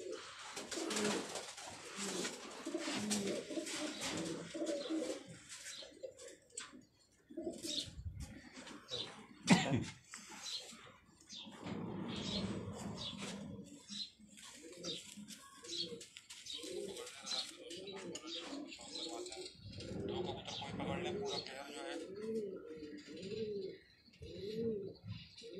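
Pigeons in a Karachi fancier's loft cooing in layered, repeated throaty calls, close and fairly loud, with occasional knocks and a voice talking intermittently among them.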